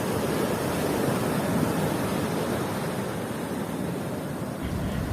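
Sea surf rolls in on a Kerala beach as a steady, broad wash of wave noise.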